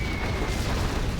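Carpet bomber explosions hitting a bunker in a real-time strategy video game, a dense, continuous rumble of overlapping blasts that stays loud and heavy throughout.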